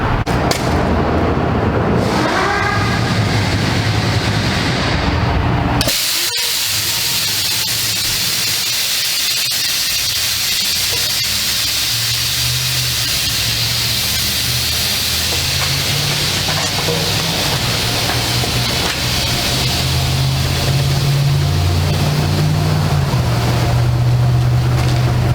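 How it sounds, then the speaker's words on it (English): Air ride suspension being dumped on a semi truck tractor: a loud, sustained rushing hiss of released air, with an abrupt cut partway through, then a steady engine drone under continuing air noise. "Now we're going to dump the air ride on the tractor."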